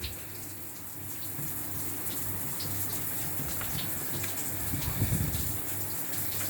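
Running shower water hisses steadily in a bathroom while a Lhasapoo puppy is coaxed toward it, a continuous gushing spray with a faint low hum underneath.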